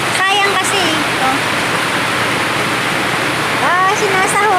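Heavy rain pours down steadily in a dense, loud wash that fills the whole clip, with voices talking over it at the start and again near the end.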